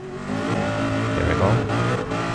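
Race car engine revving in the Gran Turismo Sport video game on the Mulsanne straight, a loud buzzing roar that swells and dips briefly, close and constant.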